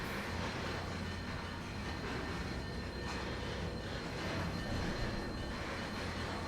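A train rolls through a rail yard in the simulation game Trainz 2022, producing a steady, loud rumble and broadband roar of engine and wheels that holds continuously without talk.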